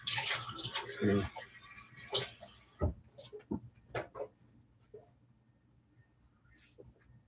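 Water running from a tap while someone fills a glass to drink, a close hissing rush at first, followed by clinks and handling sounds, with a person talking intermittently.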